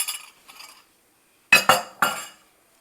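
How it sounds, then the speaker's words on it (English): A spoon stirs pineapple in a dish for a holiday dessert: two soft scraping strokes, then three sharp, close clinks against the dish, with no talking. "Stir that around a little bit."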